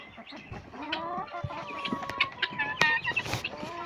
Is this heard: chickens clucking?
yes